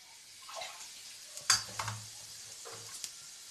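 Cumin seeds sizzling as they hit hot oil in a pan while making baingan bharta, a faint crackle with a few sharp pops and brief bursts of louder frying, no talking.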